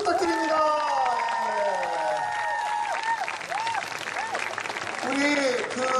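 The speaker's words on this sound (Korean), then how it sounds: "박수 부탁드립니다" A crowd claps and cheers steadily for several seconds at a Korean traditional music (samulnori) performance, with sliding whistle-like tones and voices rising through the applause.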